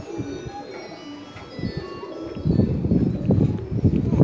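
A racing pigeon, offspring of the bird shown on a poster, coos softly at a Lahore pigeon-flying dera during the 2018 Rustam competition; low throaty coos swell in the second half beneath a voice.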